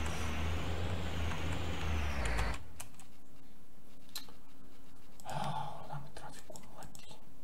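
Street traffic with trucks: a heavy engine rumbles loudly up close, then cuts off with an air-brake hiss. After that, faint distant traffic and scattered street noise carry on.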